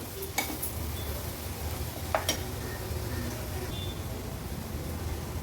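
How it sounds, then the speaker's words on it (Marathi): Turmeric and chili masala sautéing in oil, a steady soft sizzle with a few sharp spoon clicks against the pan, with no one talking. "हळद आणि मसाला छान तेलावर आपल्याला असा परतून घ्यायचा आहे"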